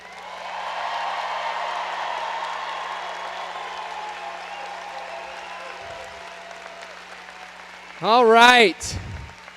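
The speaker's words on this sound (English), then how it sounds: "Let's give one more round of applause to the class of 2022." Sustained applause from a large crowd for the class of 2022 at Leander High School graduation, a broad even wash of clapping that swells and slowly fades before a voice speaks briefly near the end.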